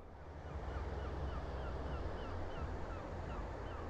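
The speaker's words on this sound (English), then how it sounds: "Listen to the sound of the sea. The tide is coming in right now" Steady, soft wash of sea waves at Blackpool Beach as the tide comes in, a continuous distant surf rumble with wind and faint bird calls above it.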